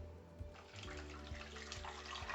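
Water, half a litre, pours into a cooking pot holding piloncillo, a whole guava, cinnamon and star anise for a buñuelo syrup, a soft steady splashing trickle, faint and close, with no speech.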